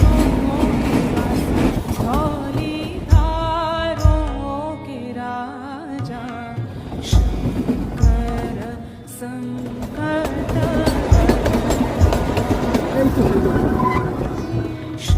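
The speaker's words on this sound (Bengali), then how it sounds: "ধীরে ধীরে আমাদেরকে নিয়ে চলতে আরম্ভ করলো ট্রেন শিমলার পথে" A train slowly pulls away on the mountain route toward Shimla, its rolling rumble steady and fairly loud throughout, with sustained tonal sounds and a few sharp knocks layered over it.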